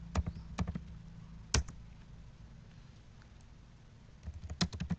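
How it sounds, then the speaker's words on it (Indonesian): Cisco configuration commands are entered on a computer keyboard in quiet, close clusters of quick keystroke clicks, with a lull in the middle and a final burst of taps near the end. "kemudian kita ketikkan IP helper untuk mengaktifkan DHCP relay ke PC2 kemudian ketikkan IP address server"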